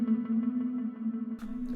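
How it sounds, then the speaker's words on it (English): Electric guitar played through a Donner Arena 2000 multi-effects unit with a very fast delay, modelled on an AC30 amp into a Vox 2x12 cabinet with reverb, sustaining a steady held tone with quick repeats before a sharp pick attack near the end. "Very fast delay."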